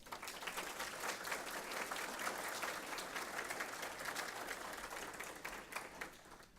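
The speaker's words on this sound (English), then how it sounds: "let's give everybody a round of applause" Sustained applause from an audience at a Commonwealth Attorney debate, many hands clapping in a dense, even wash that carries on steadily and softens slightly near the end, with no speech.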